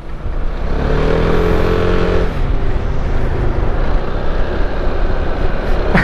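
A Piaggio MP3 500 Sport three-wheeled scooter roars loudly and steadily while riding a winding road, its engine note constant and close, mixed with heavy wind rush.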